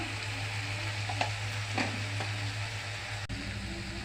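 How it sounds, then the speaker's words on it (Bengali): Chopped tomatoes cooking down in a hot pan give off a steady, close sizzle with a few soft stirring scrapes and one brief knock near the end, with no talking. "বড় সাইজে কেটে কেটে রাখা টমাটো তো একসঙ্গে কষিয়ে নিব ভালো করে"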